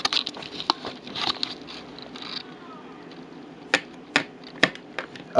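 Small screws are undone on a Dell Latitude laptop, giving sharp clicking and ticking taps in an irregular patter, close and fairly quiet, with a few scraping handling noises between clicks.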